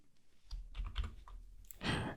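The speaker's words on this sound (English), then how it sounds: "I'm just going to press escape on my keyboard." Keys on a computer keyboard are pressed in a quick run of close, soft clicks and taps, ending in a louder clatter, with no voice.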